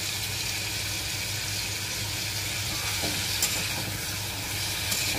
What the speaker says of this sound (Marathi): पनीर आपण हलकं हलकं तेलामध्ये फ्राई करून घ्यायचं आहे।